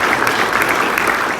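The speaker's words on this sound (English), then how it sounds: "Big round of applause for him." An audience at an evening meditation and mindfulness gathering breaks into applause, a dense close wash of steady clapping from many hands.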